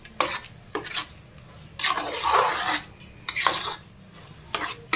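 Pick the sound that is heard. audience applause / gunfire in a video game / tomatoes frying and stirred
tomatoes frying and stirred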